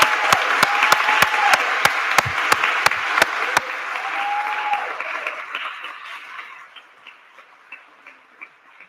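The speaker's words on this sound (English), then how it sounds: "A round of applause." Audience applause at an NAACP New Jersey gubernatorial candidate debate hosted with a Princeton University chapter, a dense crowd clapping with a steady rhythmic beat that gradually thins and fades into scattered claps.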